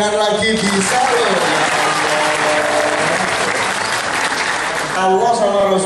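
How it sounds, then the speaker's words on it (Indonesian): A large audience at a religious gathering with a preacher and Kiai Kanjeng in Babakan Losari, Cirebon, bursts into loud sustained applause, dense clapping that swells for several seconds before a voice cuts back in at the end. "Tepuk tangan lagi bisa loh."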